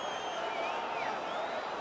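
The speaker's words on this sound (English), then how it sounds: "So the crowd voicing its appreciation after that round." Steady crowd applause and cheering from an arena audience in the UFC 5 video game, a continuous wash of clapping heard at moderate distance.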